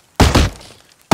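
Wood is chopped in the video game Rust: two quick, hollow thunks land close together, followed by a brief fading rattle and a third sharp hit at the end, loud and close.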